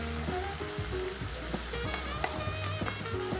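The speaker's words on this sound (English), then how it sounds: "Now we put a bit of oil and we're gonna start frying this a bit." Tomato and capsicum fry in oil in a pan, a steady close sizzle with crackling pops and occasional stirring scrapes, no voices.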